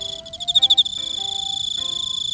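An Emma field cricket chirps beside a frog outdoors in autumn: a loud close trill of rapid pulses, with a steady high insect drone behind it and other faint calls.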